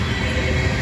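A South Carolina Public Works coal train rolls past near Abbeville, South Carolina, its loaded cars on the way to a coal power plant, making a loud, steady, close rumble that fills the clip.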